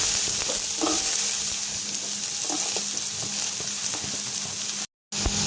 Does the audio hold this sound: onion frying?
yes